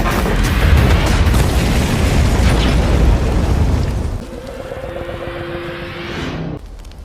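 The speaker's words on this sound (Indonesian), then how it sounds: "Mobil yang dia setir hilang kendali. Terperosok lalu meledak." A loud, sustained roaring blast of a crash and explosion, then a quieter rumble with a faint tonal whine before it cuts off.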